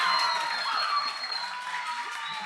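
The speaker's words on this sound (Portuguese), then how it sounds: "palmas para o locutor" Applause from an audience at the closing ceremony of a Rondônia judiciary memory week, a dense, steady wash of clapping that fills the whole stretch at moderate loudness, with a few voices mixed in.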